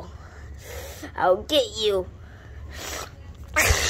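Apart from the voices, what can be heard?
sneeze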